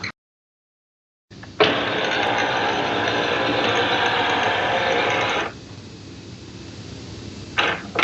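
The mechanism of an HP Envy 6000e or 6400e printer restarting: mechanical whirring and rattling starts after a pause, runs loudly for several seconds, then drops to a quieter hum with brief clicks near the end.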